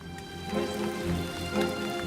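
Heavy rain falls on an archaeological dig site, a steady hiss of dense drops patters close by, with faint low rumbles underneath and no talk.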